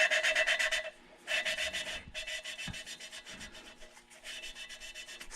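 Engine valve from a Mazdaspeed 3 being lapped against its seat by hand, a dry abrasive grinding rasp in repeated back-and-forth strokes with brief pauses between, close and steady.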